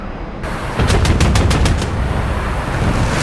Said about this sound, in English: I didn't have my guns on, I just had a cannon.